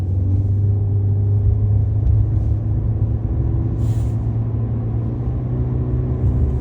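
A Toyota Corolla Hybrid with 122 horsepower pulls away gently while driving in town, heard from inside the cabin as a steady, loud low rumble of engine and road noise that holds level throughout, with no talking.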